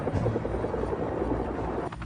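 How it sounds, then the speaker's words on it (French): Several twin-rotor Chinook helicopters passing overhead, a loud steady low rotor thrum and engine roar filling the air with no break. "plusieurs hélicoptères birotors arrivent au-dessus de leur tête"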